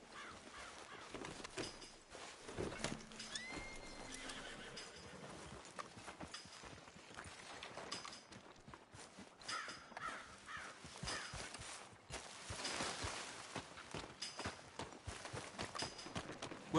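Hooves clip-clop in a steady walking rhythm, with occasional caw-like calls, from a horse returned to its rider in a game, set against a faint, busy outdoor background.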